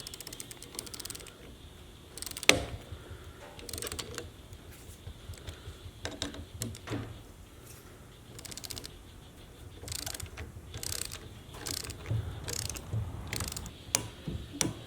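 Torque wrench ratcheting wheel bolts on a Jeep Gladiator shop truck, close clicking bursts in short runs separated by pauses, with faint background talk in places.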